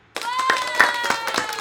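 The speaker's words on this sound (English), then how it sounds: "that deserves a round of applause. Do you guys hear the claps on your side too?" A small group claps in a round of applause for brewery guests at a live talk event, sharp irregular hand claps close by, with a faint tone and bits of voices underneath.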